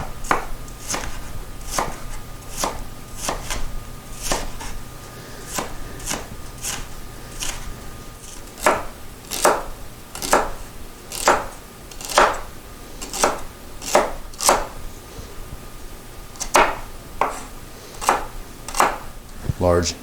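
Knife chopping food on a cutting board during preparation of Brunswick stew with pulled pork, a long run of crisp, close cuts in uneven rhythmic bursts with short pauses, a voice speaking faintly underneath.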